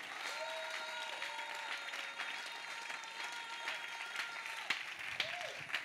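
A church congregation applauds steadily for the Lord, a continuous even wash of clapping with a sustained tone ringing beneath it and a few sharper accents near the end.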